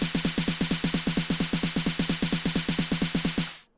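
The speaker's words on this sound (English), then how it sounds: "get a nice 909 snare or whatever one you want to use for your project" Standard 909 snare drum roll programmed in FL Studio: rapid, evenly spaced machine-gun hits at constant loudness for about three and a half seconds, then stopping abruptly.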